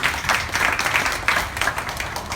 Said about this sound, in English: Give applause to Mr. Andrew